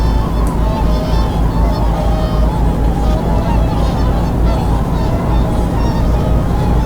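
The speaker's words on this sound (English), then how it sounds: "you could just revel in the sight and sound of a herd of wild swans" A herd of wild swans honks and calls continuously in a dense chorus on a BBC Radio 4 broadcast, loud and steady with a low rumbling hum beneath.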